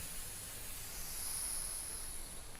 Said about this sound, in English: The remaining amount of steam has just exited the vessel.